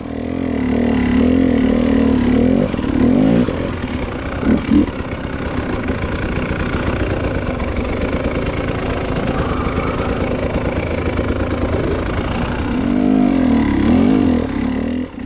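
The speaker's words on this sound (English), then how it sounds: "he really gets that bike moving through these woods" A dirt bike engine drones loudly and continuously while being ridden through snowy winter woods, its pitch rising and falling with throttle changes, close up and with no talk.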